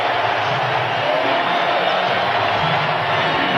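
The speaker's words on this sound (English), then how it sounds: "Well, that'll get the crowd going." A roaring arena crowd at a 1997 NBA playoff game between the Bulls and Hawks cheers after a Dennis Rodman three-point basket, a loud, sustained wall of cheering and whoops with a commentator talking over it.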